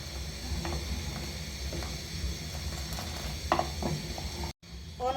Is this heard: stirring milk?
yes